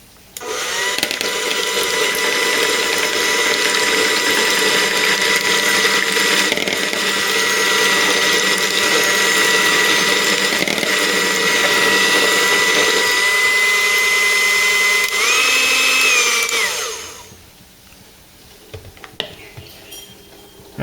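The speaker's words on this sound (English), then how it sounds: "now we're going to beat this egg." A loud, steady whirring mixer beats an egg for about seventeen seconds, then cuts off, leaving quiet room noise and a few faint clinks.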